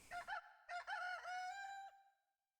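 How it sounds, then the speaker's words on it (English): A chicken in the Breath of Fire IV video game squawks in a few quick clucking bursts, then lets out a longer, loud, strained cry as it flies out, ending abruptly. "What do you mean that chicken just flew out?"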